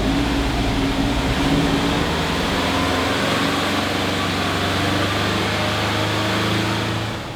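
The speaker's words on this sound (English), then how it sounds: "I'm gonna go jump in the back so you guys could hear the exhaust." Rebuilt Subaru STI that had been flooded and burned, its exhaust idling steadily and loudly up close with a continuous low rumble and no talk.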